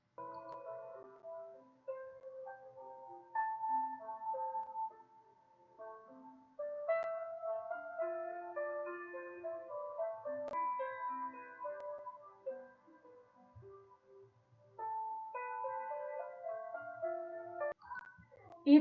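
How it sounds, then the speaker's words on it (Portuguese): Soft melodic piano notes played as a quiet, slow tune with gentle pauses and no talk, heard as a sound-identification example in a science class. "o segundo som foi de piano"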